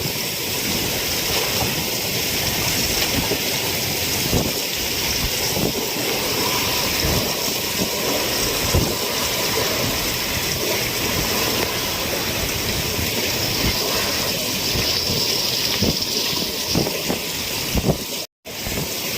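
Gusty typhoon wind from Typhoon Kabayan blows along the Surigao shore beside a large boat, a loud sustained roar with microphone buffeting and a brief dropout near the end.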